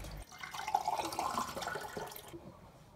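Tap water runs into a sink while a face is washed in the morning, a close, splashing stream with uneven bursts and drips that stops abruptly near the end, with no talking.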